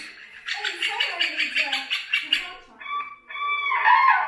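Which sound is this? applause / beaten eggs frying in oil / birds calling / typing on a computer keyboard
birds calling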